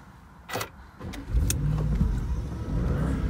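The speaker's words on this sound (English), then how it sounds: "Listen to that startup." An Audi S8 Quattro engine cranks and catches, settling into a steady low idle rumble after a few sharp clicks and a brief whir.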